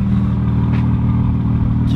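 A modified BMW M2 engine giving a steady, loud, throaty drone at close range, holding a sustained rev without pause for the full two seconds.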